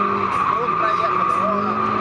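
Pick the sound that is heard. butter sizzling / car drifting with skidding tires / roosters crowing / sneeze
car drifting with skidding tires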